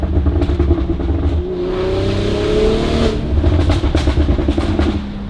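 Close, loud revving from a BMW G42 M240i's B58 engine through a Valvetronic Designs exhaust, with a steady rising sweep in the middle and sharp crackles and pops breaking through near the end.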